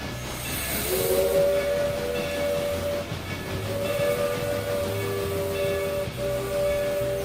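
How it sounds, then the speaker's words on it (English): Slow-moving train in the Railroader game with logging mods, a continuous rail rumble with hiss and sustained tonal whistle-like squeals that come and go. "Oh, this is some slow train motion right here."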